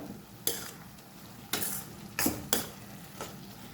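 A spoon scrapes and stirs carrot halwa cooking with sugar syrup in a pan, four or five distinct scraping strokes rising above a low simmering sizzle.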